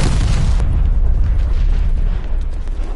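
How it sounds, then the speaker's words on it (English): Loud, close artillery blasts in the Black Ops Cold War video game, a heavy booming impact that rolls into a rumbling, crackling tail lasting several seconds. "Incoming artillery."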